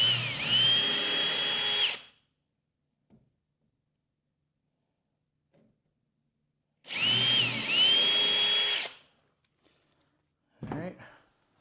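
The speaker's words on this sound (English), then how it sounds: "let's go ahead and pre-drill here" A power drill pre-drills angled holes for a stair newel post in an 1884 house renovation, two loud close bursts of about two seconds each, separated by quiet handling noises, with a short voice at the end.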